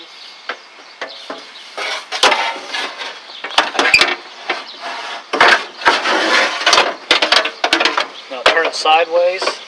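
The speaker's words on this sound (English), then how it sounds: "you can watch me drop this glass in" A glass window pane being lowered into the driver-side door of a 2000 Ford Expedition, making a series of close clunks, scrapes and knocks with irregular rattling, some louder impacts mid-way.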